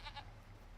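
Sheep in a sheep barn in Farming Simulator 25 give two short bleats close together near the start, then a steady low farm ambience hum carries on under them.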